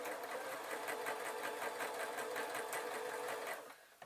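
Sewing machine stitching bunny puppet fabric, an even, rapid mechanical hum with quick needle pulses, fairly quiet and close, stopping just before the end.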